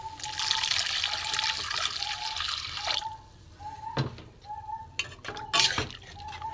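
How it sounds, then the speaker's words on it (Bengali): Water trickling and dripping into a pot of cooked masoor dal, a steady close pour that thins out midway, followed by a few sharp clinks and taps of the pot. "এতে আমি কিছুটা জল দিয়ে দেবো।"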